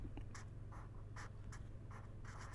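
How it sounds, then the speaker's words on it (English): Pen or marker writing on a board during an energy economics lecture, a series of short scratchy strokes in quick bursts, close and fairly quiet, with nobody speaking. "So, now if I write"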